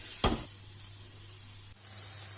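A spoon scrapes once through a spiced green pea and chili filling in a hot frying pan, followed by a quiet, steady sizzle with no voices.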